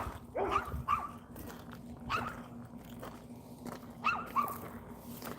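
Dogs bark in a few short, sharp bursts at a moderate distance during a suburban summer walk, spaced out irregularly over a low, steady background hum.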